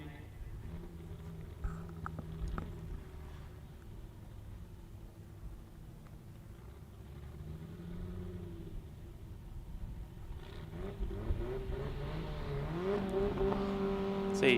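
Holden Gemini and a Ford sports compact drag racing at an Adelaide event, engines rumbling and idling at a distance before revving harder toward the end, under steady commentary.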